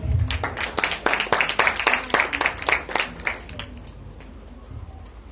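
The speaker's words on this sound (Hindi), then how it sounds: "अन्नू भैया के लिए जोरदार तालियां" Audience applauding for Annu at a civic address on the city's development, a dense burst of hand claps that swells and then fades out over a few seconds, with a faint voice underneath.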